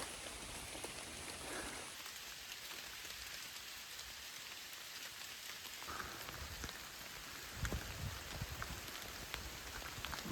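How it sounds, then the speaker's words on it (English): Heavy rain pours steadily on a hiking trail near Dragon's Tooth, a dense continuous hiss of drops hitting surfaces, with a few louder close spatters near the end and no talking. "it's pouring rain"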